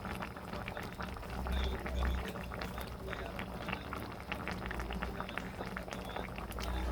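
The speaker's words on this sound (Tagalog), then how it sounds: "dahil kumukulo na siya" Bubbling liquid boils steadily in a pot on a stove at close range, with quick popping bursts over a low simmering rumble; a jackfruit, mung bean and dried fish dish cooking.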